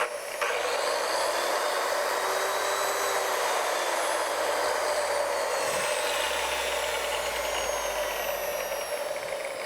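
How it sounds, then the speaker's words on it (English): Grinder motor running steadily for the whole stretch, loud and close, with a noisy, rattly gearbox adding a gritty mechanical clatter over the constant whine. "you'll hear what I'm talking about with the noisy gearbox"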